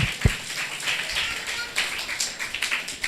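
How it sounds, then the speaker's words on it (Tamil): A group of children clapping their hands together at a Bible school class, a brief scatter of claps near the start giving way to a dense, steady patter of applause that continues throughout. "வெரி குட் கை தட்டுங்க"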